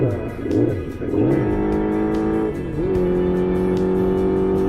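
A Honda motorcycle engine while riding, captured close by a Zoom recorder, a loud continuous engine tone that rises and falls with shifts before settling into a steady pitch, with wind rumble underneath.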